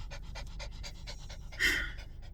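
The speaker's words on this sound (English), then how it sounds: "you're very distracting when you're panting on my lap" A dog pants rapidly in quick, even breaths close up while lying on a person's lap, with one louder huffing breath near the end.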